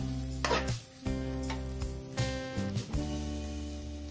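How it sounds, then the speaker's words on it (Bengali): Pulao rice and vegetables are stir-fried in a pan for vegetable fried rice, giving a quiet sizzle broken by a few sharp scrapes and knocks from the stirring utensil. "এখন এই সবজির সাথে পোলাওটাকে ভালো করে নিচ্ছি"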